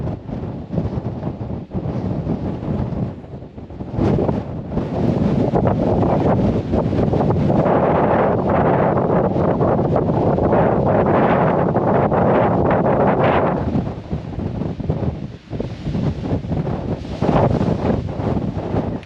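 Strong wind roars across a fell hilltop on Sale Fell, buffeting the microphone in loud, continuous gusts that swell and ease for the whole stretch, with no voices.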